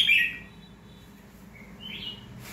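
Two brief, sharp whistled phrases from a caged red-whiskered bulbul, one opening the moment and a rising call near the end, heard up close against faint background noise.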